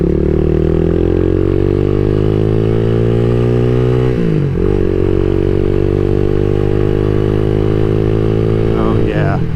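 A CSC SG250 motorcycle fitted with a MotoCult Stage 4 upgrade runs loud and close throughout, its engine note rising steadily, dropping briefly as it shifts near the middle, then climbing again with a short surge at the end.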